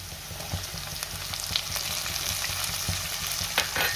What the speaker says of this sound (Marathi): आणि टोमॅटो सुद्धा 2 मिनिटं मी चांगला परतून घेणार आहे